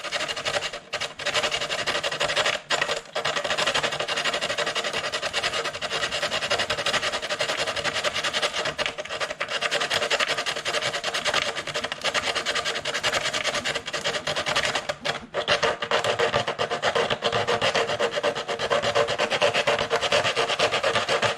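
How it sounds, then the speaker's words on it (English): Coarse 40 grit sandpaper scrapes steadily over the hard plastic body shell of an INJORA 275mm Jeep Rubicon kit for a Traxxas TRX-4, a continuous close rasping with only brief pauses between strokes. "I actually ended up finding some 40 grit sandpaper, so this stuff is pretty rough."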